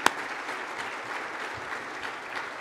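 Steady applause from the audience at a State of the City event in Portsmouth, Virginia, moderate and continuous, after a sharp knock at the start.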